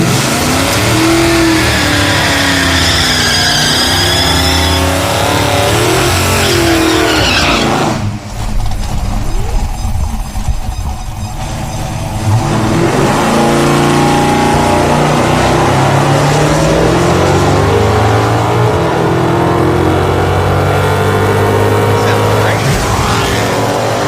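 Hemi-powered drag cars, a Hemi gasser and a Hemi Super Bee, roar down a drag strip at full throttle, the loud engine climbing through gears, briefly easing, then surging again in a sustained, close howl.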